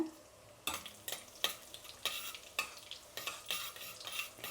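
Cumin and ajwain seeds frying in ghee, a quiet sizzle punctuated by a regular series of sharp stirring scrapes against the pan, close and alone.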